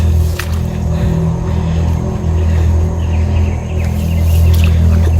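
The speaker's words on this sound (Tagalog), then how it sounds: "Ibon yan, rinig pa yung mga dumadaan sa kalsada mga tol." A bird calls against a steady low rumble of vehicles passing on a nearby road, with a few sharp chirps rising above the continuous traffic drone, heard outdoors at night.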